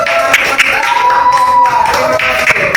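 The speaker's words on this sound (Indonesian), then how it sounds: "Berikan aplaus." Classroom applause from a group of students, a steady wash of clapping lasting the whole moment, with scattered sharper hand claps standing out and a faint tonal background hum.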